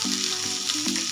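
Onion and tomato sautéing in a pan, a steady close sizzle with faint stirring scrapes throughout the short moment, no voices.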